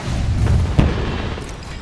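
A frag grenade going off in the battle-royale shooter Apex Legends: one heavy, close boom with a deep low rumble, rising over a constant background roar of game noise and then trailing off.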